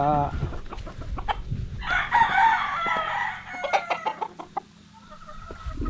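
Breeder chickens cluck in dense, close bursts while a rooster lets out a loud crow midway, with more clucking and scattered farmyard noise around it and a person speaking faintly underneath.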